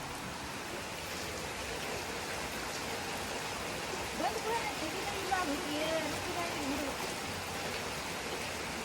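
Rain falls steadily as a continuous, moderately loud hiss, with faint voices briefly audible in the background partway through.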